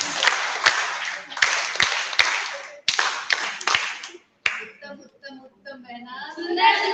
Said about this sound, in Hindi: उनके लिए जोर से सैनिक ताली।